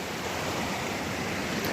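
Water tumbles down small waterfalls in a canyon creek, a steady, close, full rushing flow with no pauses.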